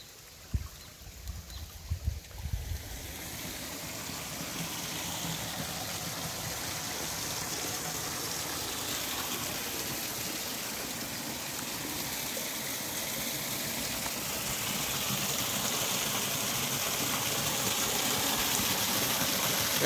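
Lots of water flowing and gushing outdoors, a steady broadband rush that builds slightly and stays loud throughout after a few brief knocks at the start.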